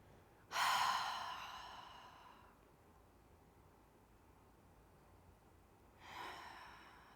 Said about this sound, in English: Take a few exhales, a few cleansing breaths through the mouth.